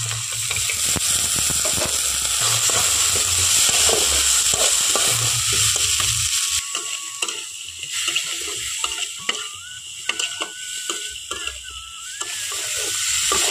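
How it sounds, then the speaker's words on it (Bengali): Onion, salt and raw chickpeas sizzle and crackle loudly in a hot pan, stirred with scraping clatter, then the frying quiets into scattered pops and clinks. "এখন খুব ভালোভাবে ভেজে নেব"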